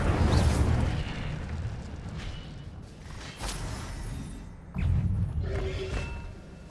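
Incendio fire spell blasts from Hogwarts Legacy, a string of booming bursts with whooshing tails, loud and close, repeating several times with no talk.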